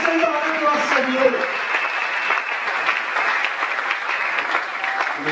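A church congregation at a Sunday worship service applauds and cheers in steady, sustained clapping that fills the room, with a voice speaking over the crowd and faint music beneath.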